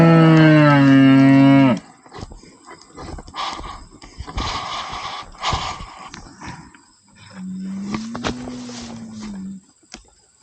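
Cattle on a silvopasture farm moo loudly in reply to a farmer's call: one long, strong, close moo, a stretch of quieter rustling, then a second shorter, lower moo.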